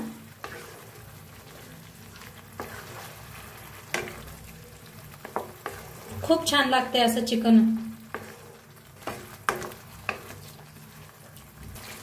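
Chicken cooking in a pan with ground blended masala, a steady sizzle with stirring scrapes and clatter, as someone talks over it in the middle.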